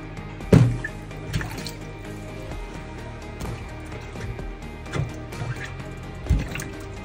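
Water drains down an apartment sink drain being cleared of a clog, with gurgling, dripping and trickling and a few louder glugs, heard close with no voices.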